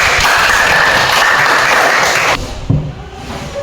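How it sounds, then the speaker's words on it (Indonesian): Classroom applause from schoolchildren, a dense burst of steady clapping close by that continues for over two seconds, then cuts off abruptly and leaves quiet room noise with a few faint knocks. "Tepuk tangan untuk kita semua."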